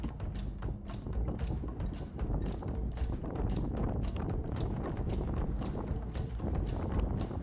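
A strong gust of about 20 m/s sweeps a winter ridge on Mount Utsugi in the Central Alps during a solo climb. A loud, steady roar of wind buffets the microphone, with regular crunching pulses throughout.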